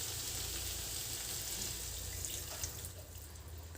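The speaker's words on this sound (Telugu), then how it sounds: "ఇప్పుడు ఇందులో వాటర్ వేసుకున్నాం" Water runs steadily into a pan with a continuous hissing, splashing rush, close by and fairly quiet, with no one speaking.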